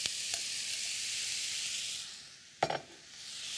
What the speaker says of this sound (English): And now I will add the asparagus.